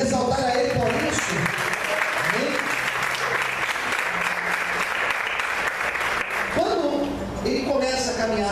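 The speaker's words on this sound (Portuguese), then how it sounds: "Você pode aplaudir e exaltar a Ele por isso." Church congregation applauding during a Portuguese-language sermon, a steady broadband wash of many hands clapping that fills the room for several seconds, with some voices and cheers mixed in.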